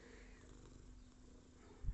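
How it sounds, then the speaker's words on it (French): A large pet cat purrs while being stroked, a low steady rumbling purr heard close and quiet, ending in a brief louder bump of handling noise. "La ronron thérapie."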